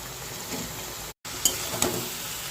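Fried cauliflower stirred into a spiced tomato and sesame masala in a hot pan, a steady close sizzle with light scraping and a few sharper clinks of the spoon against the pan, no voices over it.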